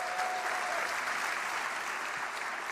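An audience applauding at a comedy prize ceremony, a dense, steady wash of many hands clapping heard from within the crowd, holding level throughout.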